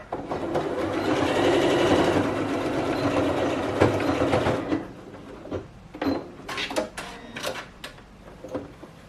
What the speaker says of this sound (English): you're going to stitch as close as possible to where your twist is or your knot is